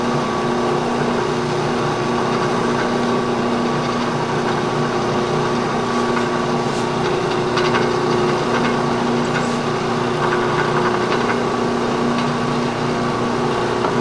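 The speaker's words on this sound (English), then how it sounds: "I'm gonna come straight down on it and drill a little pocket." A drill press drilling into a nut gives a steady high-pitched motor whine that drones on continuously with faint grinding texture, an even mechanical hum from start to finish.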